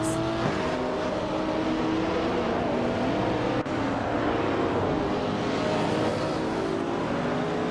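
Race-car engines at the start of a race at Okayama GP in a racing game, including a 2006 Porsche Cayman S. A steady, loud roar of several engines droning and revving together, with no talking.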